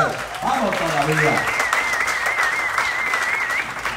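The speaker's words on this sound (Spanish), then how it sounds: "Denle otro fuerte aplauso" An audience applauds at a pastors' wedding celebration in California, with dense clapping mixed with voices and a high whistle-like tone running over the crowd.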